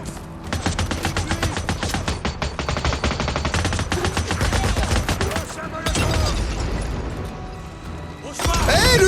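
Gunfire in the video game Days Gone, long bursts of rapid automatic shots and heavy impacts rattling loudly and close, with a short pause before more shooting and faint game sounds underneath.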